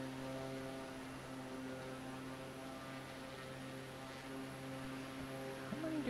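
A Pilatus PC-6 turboprop engine in Flight Simulator 2020 drones steadily and evenly at close range, a constant tonal hum with no voices over it.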